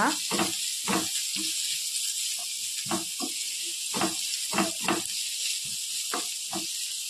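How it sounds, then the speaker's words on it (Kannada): Chopped onion fries in a pan for mushroom sukka, a faint steady sizzle with quiet clicks and taps of a spoon or spatula scattered throughout. "ಈರುಳ್ಳಿ ಒಳ್ಳೆ ರೀತಿಯಲ್ಲಿ ಫ್ರೈ ಆಗಲಿ ಸ್ವಲ್ಪ ಗೋಲ್ಡನ್ ಬಣ್ಣ ಬರುತ್ತೆ ತನಕ"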